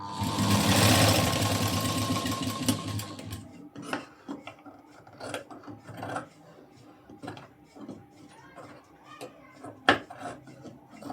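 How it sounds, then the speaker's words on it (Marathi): A sewing machine stitches inside the round front neckline of a garment where the fabric is fraying, starting with a loud continuous whir, then giving way to quieter intermittent clicks, rubs and a sharp tap as the fabric is handled. "तर इथून मी थोडी आतून शिलाई घेणार आहे."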